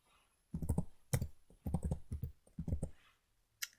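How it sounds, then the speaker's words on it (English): Someone types on a computer keyboard in several short bursts of quick, close key clicks separated by brief pauses, with nothing else heard. "I'm going to type my name and today's date."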